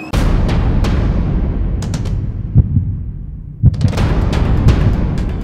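Heavy low thumping beats pulse in an irregular rhythm, played as a suspense sound effect during a food show, loud and alone with no talk.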